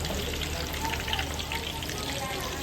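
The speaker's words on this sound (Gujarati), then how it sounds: "પનીર તળાય છે અહીંયા પનીર તળવાનું છે" A continuous crackling sizzle of paneer frying in hot oil, steady and close, with no talking over it.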